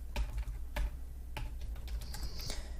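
Keys on a computer keyboard clack in a short, uneven burst as a Linux terminal mount command is typed, a few sharp near taps spaced apart with no talking.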